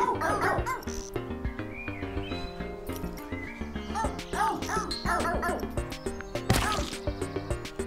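A dog barks repeatedly in the video game PHOGS, yips and bow-wows scattered over cheerful game music, moderately loud with irregular rhythm and no one talking.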